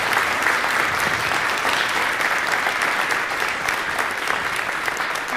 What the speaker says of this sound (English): let's give all these candidates a nice round of applause